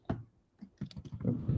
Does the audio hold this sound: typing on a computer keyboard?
yes